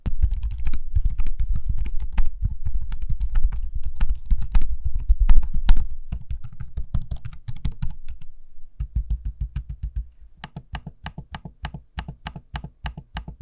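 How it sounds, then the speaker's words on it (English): Rapid clicky keystrokes on a Lenovo Legion 9i laptop keyboard, close and steady, pausing briefly before a run of lighter, evenly spaced trackpad taps near the end. "a quick noise sample of me using the keyboard and trackpad"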